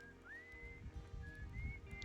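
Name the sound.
whistling in the video game Outer Wilds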